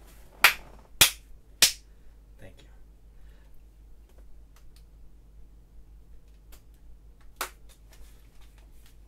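Three sharp hand claps in quick succession open the recording, made to sync sound for a vlog, followed by quiet room tone and one more lone clap later on.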